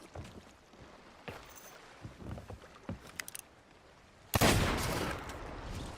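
Gunfire aimed at ghosts from an anchored ship in the pirate game Sea of Thieves, heard as a few scattered pops and then a loud, sustained noisy burst near the end, with no talk.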